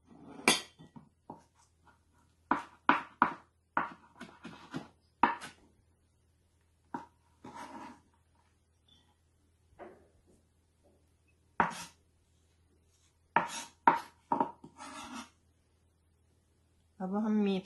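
Knife chopping vegetables on a cutting board in a home kitchen, with bursts of quick sharp chops separated by pauses, near and crisp, and a short voice at the very end.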